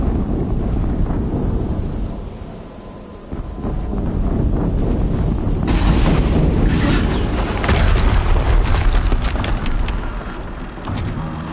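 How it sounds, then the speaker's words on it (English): An explosion in the Horizon Zero Dawn video game: a loud, deep, rumbling boom with roaring wind-like noise that swells and intensifies partway through, then holds steady with no talking. "An explosion."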